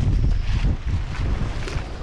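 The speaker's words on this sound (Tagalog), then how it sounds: "Malakas ang hangin." Strong wind buffets and roars across the microphone while fishing from a boat, loud and gusty for the whole moment with no voices.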